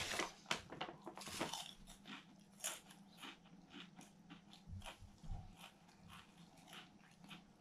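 Seaweed and salt potato chips are crunched in close, quiet bites, with sharp crisp cracks coming in irregular bursts and softer chewing between them, and no talking.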